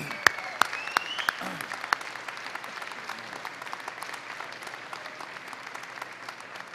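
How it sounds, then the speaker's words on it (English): Graduates at a spring university convocation applaud their families, a steady patter of many hands in a large hall, moderately soft, opened by a few sharp, louder claps and continuing evenly to the end. "give them a round of applause for the love and support that made this day possible"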